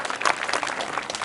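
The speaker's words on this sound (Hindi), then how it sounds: "सभी से निवेदन करूंगा ताली बजाकर इस पहल का स्वागत करें।" Crowd of an audience clapping together at a local panchayat gathering, a dense steady patter of many hands, fairly loud and close, lasting the whole moment without speech.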